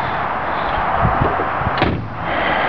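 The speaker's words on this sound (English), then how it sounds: "A nice solid thud of the door closing there" A 1965 Ford Galaxie convertible's door shuts with a solid, muffled thud near the middle, over a steady low background rumble.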